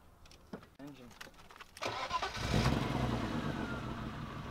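A car engine with a faulty starter cranks and catches outdoors, first a few rough turnover bursts, then a sustained idling roar that grows louder and steadier, with people talking nearby before it fires.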